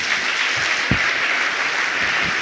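A church congregation applauds during a service, with steady, dense clapping throughout and a few louder thumps underneath.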